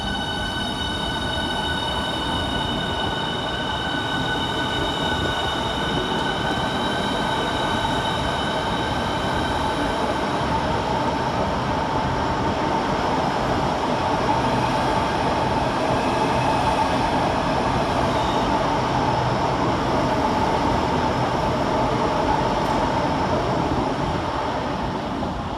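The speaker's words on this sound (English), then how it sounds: "we see the departure of 395-006 and 395-014 with the 1120 Southeastern high-speed service to Ramsgate" Two coupled Class 395 Southeastern high-speed trains pull out of London St Pancras in a continuous loud rumble, with a steady whine and sustained tonal hum running throughout and no voices.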